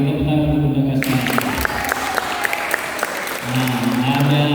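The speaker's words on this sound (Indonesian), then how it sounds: "Kita tepuk tangan untuk Bunda Kasnawati." A gathering breaks into applause for an elderly alumna, a dense burst of clapping from many hands that swells for a few seconds before fading as a voice resumes over amplified room tone.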